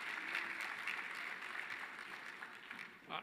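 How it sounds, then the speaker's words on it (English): Applause from the audience at an education sector conference panel session, a brief, steady wash of clapping that fades slightly toward the end. "Let's give them another big hand of applause"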